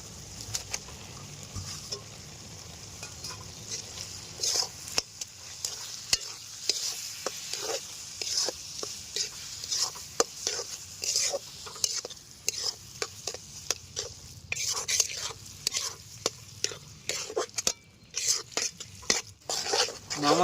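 Loitta fish is stirred into fried masala in a pan: a utensil scrapes and clinks against the metal in a steady rhythm over a continuous sizzle, with no talking.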